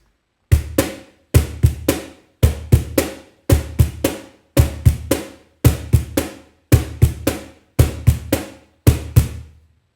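A samba pattern played on a cajon, deep bass hits mixed with sharper syncopated slaps, repeating in an even loop of short percussive groups, close and clear with no voices.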